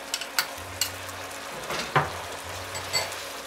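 Cornstarch slurry sizzles in a hot pan with velveted beef, a soft continuous fry broken by several clinks and scrapes from a utensil stirring close by.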